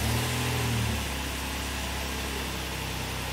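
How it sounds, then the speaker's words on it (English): A Lincoln MKT engine with a new fuel pump cranks and runs with a low, steady rumble that shifts pitch after the first second and then settles into an even idle. "I'm gonna crank the engine."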